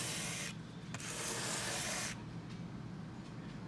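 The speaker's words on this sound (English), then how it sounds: "we're going to switch back to the other sandpaper again. Going to go a few strokes" Sandpaper rubbed by hand across the saddle of a vintage 1970s FG-75 folk guitar, a close, steady scratchy hiss in two short strokes followed by lighter friction.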